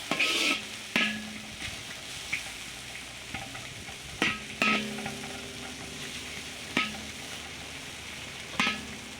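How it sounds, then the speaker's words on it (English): Fried rice with green beans stir-fries in a pan, a constant soft sizzle broken by several sharp scrapes and clacks of the utensil against the pan at irregular intervals, no talking. "Give everything a good stir and then let it cook for a few minutes."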